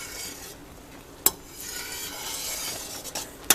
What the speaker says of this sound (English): It's at a boil that won't stir down until this is the magical part.